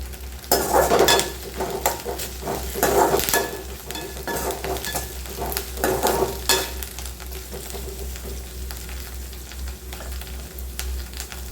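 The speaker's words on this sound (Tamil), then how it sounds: "வெங்காயம் கொஞ்சம் நல்லா வதங்கிடுச்சு" Onions sauté with curry leaves in a pan for an egg omelette kulambu, giving a steady sizzle with bursts of scraping stir strokes and a few clinks of the utensil, loud and close with no talking.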